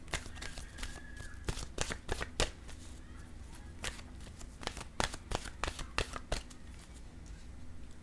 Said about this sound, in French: Allons-y avec une carte maintenant de mon oracle de l'âme intuitive.